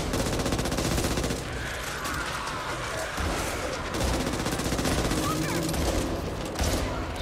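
Heavy gunfire in the Back 4 Blood zombie shooter: dense, sustained volleys from several guns, loud and close, with a few short lulls between bursts.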